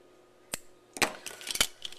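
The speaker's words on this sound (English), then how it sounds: "So I'm going to cut mine here." Scissors snipping through tassel yarn: a few sharp, close cuts, one single snip followed by a quick cluster of crisp clips, with near-silence between.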